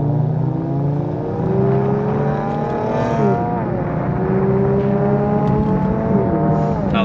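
Kia or Hyundai car accelerating under paddle shifts, the engine rising steadily then dropping in pitch at each upshift, heard from inside, loud and continuous.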